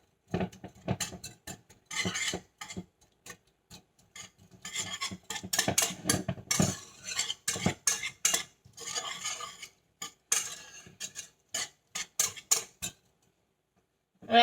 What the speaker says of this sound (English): Just breaking up those clumps of corn.